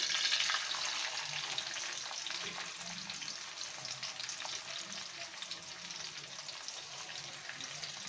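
Chopped onion frying in hot oil with cinnamon and cardamom for a spicy eel curry, giving a continuous soft crackling sizzle with a few light stirring scrapes, fairly quiet and close.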